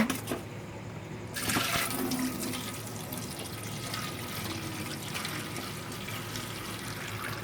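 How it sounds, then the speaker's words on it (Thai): Water pours and rushes into a bowl for washing grapes with toothpaste, a steady close splashing flow that starts loud and settles into a continuous even pour. "แล้วก็เอาไปใส่น้ำ"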